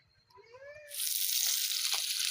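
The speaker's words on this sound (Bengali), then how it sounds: "মাছগুলো ভাজতেছি তেলে" Fish frying in hot oil over a village stove sets off a sudden loud, steady sizzle that jumps in and holds, after a few faint chirps at the start.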